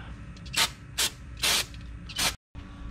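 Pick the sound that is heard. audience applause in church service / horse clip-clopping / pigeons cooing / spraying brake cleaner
spraying brake cleaner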